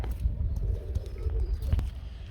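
Big Mondain pigeons coo in low, soft throaty bursts close by, with a few faint clicks and scuffs in the background.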